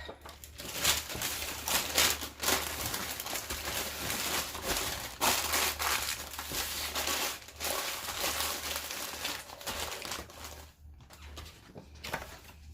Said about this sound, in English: I'm just going to wrap this up